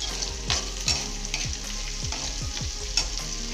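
Onions frying with turmeric and salt give a steady hiss and crackle, close up, with repeated scraping strokes of a stirring utensil every half second or so and no voices.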